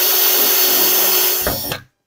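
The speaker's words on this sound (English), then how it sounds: "I can just go down through one of the holes here and drill an 1/8 inch hole" An electric drill bores a 1/8 inch hole through a plastic bait tank fitting, whining steadily and loudly at close range for about a second and a half before spinning down and stopping.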